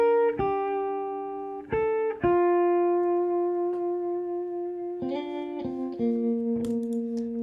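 Real electric guitar solo parts from a song mix, with clean sustained single notes and short bent phrases played alone, moderately loud with a few sharp picked attacks.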